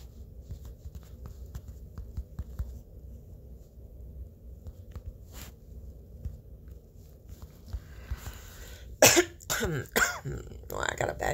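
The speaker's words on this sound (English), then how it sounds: "Well, I got a bad cough today." A few harsh coughs break out near the end after a stretch of quiet room noise, close and loud.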